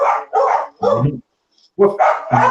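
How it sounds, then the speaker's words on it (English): A dog barks repeatedly in a room, five or so loud, close barks in quick succession with a short pause between the groups. "the dog's in the background"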